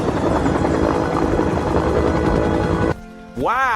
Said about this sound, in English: That's a helicopter.